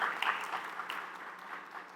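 An audience applauding a team at a talk, a short burst of clapping that starts fairly strong and fades over two seconds, sounding moderately distant.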